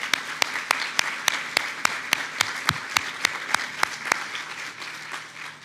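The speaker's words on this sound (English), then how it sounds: "Let's give him a round of applause." An audience at a leadership awards ceremony applauds in a steady run of claps that fades slightly toward the end, with no speech over it.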